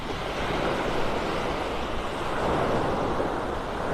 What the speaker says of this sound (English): Let your friends wake up to the sounds of Mother Ocean.